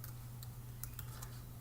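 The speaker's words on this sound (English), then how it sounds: "decide to start typing some more stuff" Keys clacking on a computer keyboard in a series of quick, light, irregular taps, fairly quiet over a steady low electrical hum, with no voices.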